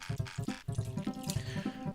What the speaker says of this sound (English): I'm gonna pour myself a drink here